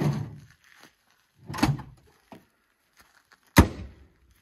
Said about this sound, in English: it's just a tray that slides out